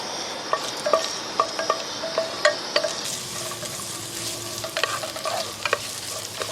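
Bay leaves, cinnamon, cloves and cardamom fry in hot oil for Arabic mutton mandi, giving a steady sizzle with scattered sharp crackles and pops, close and moderately loud, with no talking.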